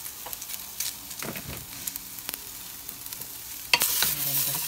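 Bitter melon being stirred as it sautés in a pan for Filipino pinakbet, with scraping spatula strokes over a steady sizzle and a louder burst of frying near the end.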